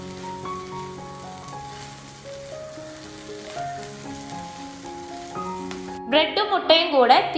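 Bread slices hit a hot pan with scrambled egg and set off a sudden loud sizzle and crackle that rises in bursts over a quieter background with a steady tonal hum.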